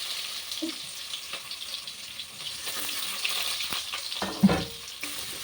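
Chopped onions and other prepared ingredients fry in sunflower oil in a home kitchen. A soft, continuous sizzle runs throughout, with occasional light stirring clicks and a brief clatter toward the end.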